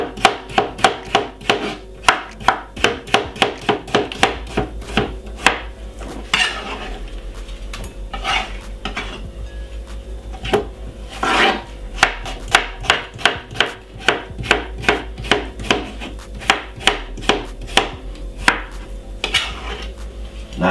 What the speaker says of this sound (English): I'm gonna cut it in half, and I'm gonna cut it in half again